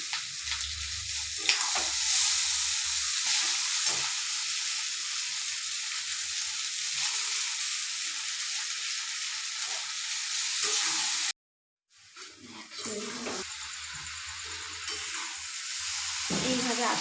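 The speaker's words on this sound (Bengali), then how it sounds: "আমি ঝারিয়ে রাখা চাউমিনটা আস্তে আস্তে মিশিয়ে দিচ্ছি।" Fried vegetables, egg and chow mein are tossed together in a pan, giving a steady hissing sizzle with light scraping that breaks off briefly near the end and then resumes.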